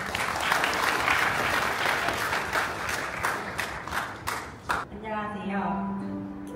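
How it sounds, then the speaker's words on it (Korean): Wedding guests at a ceremony break into loud, sustained applause lasting several seconds, dense and close, before it fades out and tonal music or a voice takes over. "여러분 큰 박수 부탁드리겠습니다"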